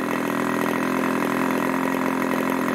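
A 1980s Irvine 40 MkII ABC glow engine runs steadily on a test stand, a continuous buzzing drone at a constant fast rev, loud and close with no pauses.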